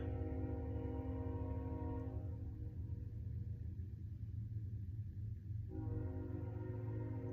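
A train passing nearby produces a loud, continuous low rumble with sustained horn-like tones that fade briefly in the middle and then return, heard alone without speech.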